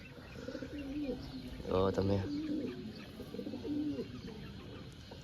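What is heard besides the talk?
pigeons cooing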